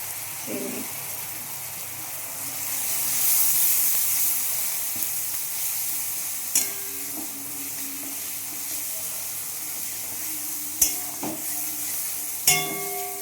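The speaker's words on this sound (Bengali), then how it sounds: "ভালোভাবে কষিয়ে নেব বন্ধুরা" Turmeric and chilli powder frying in a pan for a potato and fresh pea curry, making a low, steady sizzle with a few sharp clicks of utensils against the pan.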